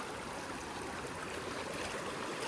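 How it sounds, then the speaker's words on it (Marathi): Water trickles and drips down a small stream in the countryside, a soft, steady wash of splashing that stays faint and even throughout with no voices. "हे बघा ठेमठेम पाणी पडतं."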